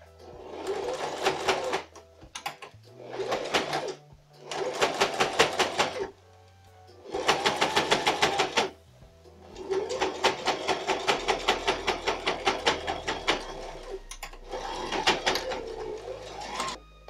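A sewing machine runs a straight stitch along the side and waistband of a men's jogger in several bursts of rapid rhythmic clatter, separated by brief pauses.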